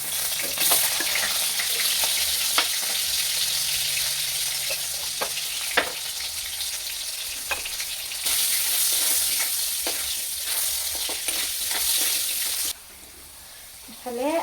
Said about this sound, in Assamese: এতিয়া আলু কেইপিচো ভাজি লওঁ